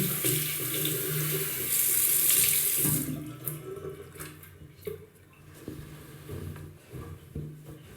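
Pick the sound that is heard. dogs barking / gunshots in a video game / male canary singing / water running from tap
water running from tap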